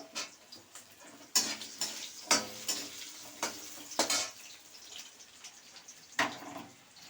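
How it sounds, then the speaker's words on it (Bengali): Potatoes frying in a pan give a steady sizzle broken by repeated loud scraping stirs and clanks of the utensil, close up and without talk. "আলুগুলো একটু ভাজা ভাজা হলে ভালো হয়"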